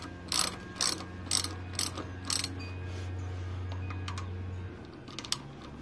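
Ratchet tightening brake caliper bolts on a 2018 RadRover electric fat bike by Rad Power, five quick clicking bursts close up, then a steady hum and a couple of faint clicks.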